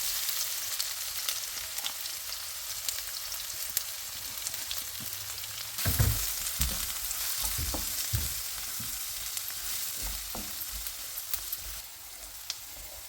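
Onions dropped into hot tempering oil for chicken curry, a loud continuous sizzle that flares up midway as they hit the pan, with occasional utensil scrapes and no talk.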